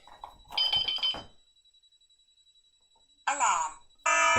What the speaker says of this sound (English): So I've triggered a couple of zones now and it's gone into alarm.